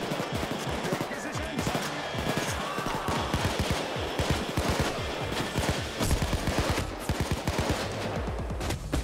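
Rapid automatic gunfire and repeated shots in a Payday 2 jewelry store heist, dense bursts running steadily throughout with game noise and a voice mixed in beneath.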